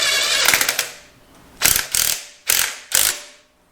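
Ratchet tightening starter bolts on a Chevy Nova, a loud, close metallic clicking run followed by four short separate bursts of ratcheting, with no talk.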